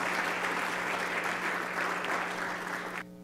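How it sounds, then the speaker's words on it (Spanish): Sustained applause from an audience at a business event in Samborondón, a dense steady wash of many hands clapping that ends abruptly near the close, with a low steady hum underneath. "les pido un aplauso para este equipo que está creyendo en el país"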